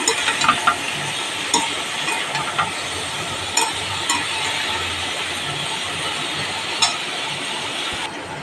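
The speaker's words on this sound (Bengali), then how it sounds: "ঝিঙেটা একটু ভালো করে কষে নেব।" Ridge gourd sautés in a pan with a continuous loud sizzle and hiss, punctuated by occasional clinks and scrapes of a spatula stirring, close up with no talking.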